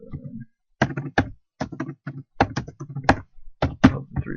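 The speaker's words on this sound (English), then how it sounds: "So I'm going to type in those values." Keys struck on a computer keyboard while entering numbers, a series of crisp separate taps and short clustered bursts with small gaps between, close and distinct.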